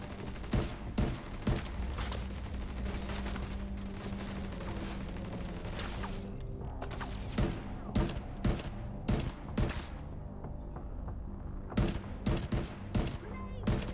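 Rapid gunfire and an automated turret firing in The Division 2 combat: dense bursts of automatic shots crackling continuously, then separate sharp repeated shots standing out loud and close in the later part.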